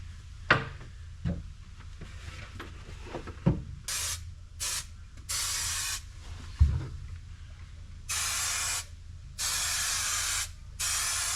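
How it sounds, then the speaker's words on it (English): Several bursts of hissing spray adhesive, some short and some lasting a second or more, after a few knocks and thumps, while insulating a Land Cruiser Troopy. "you stick that up, or use the spray to help stick it up"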